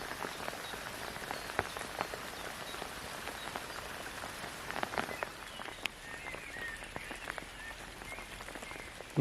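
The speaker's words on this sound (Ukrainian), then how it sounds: "знову дощ, бачите, який пішов" Heavy rain pattering steadily on water and surfaces among water lilies, dense scattered drops with occasional louder splashes, and faint frog croaks in the background.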